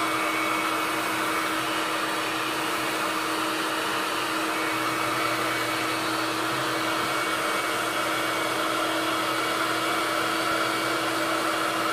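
A hair dryer blows continuously at close range, a steady whooshing roar with a constant whine, unbroken for the whole stretch and without speech.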